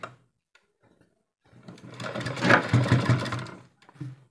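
A sewing machine runs in one sustained burst lasting a couple of seconds, stitching along the edge of a fabric sleeve. The whirring is steady and close, with brief quiet before it starts and after it stops.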